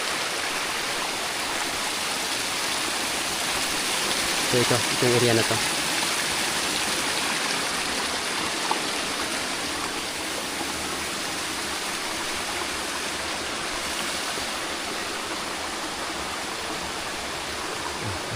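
Water rushing steadily at the source of a barangay water system, a constant broad roar throughout, with someone speaking briefly over it.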